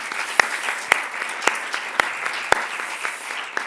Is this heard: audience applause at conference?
yes